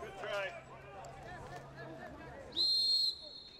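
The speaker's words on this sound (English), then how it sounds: "And a late whistle." A referee's whistle at a high school boys soccer game, El Segundo versus Lawndale, sounds one sharp sustained blast near the end, after a stretch of faint crowd and field noise with talk underneath.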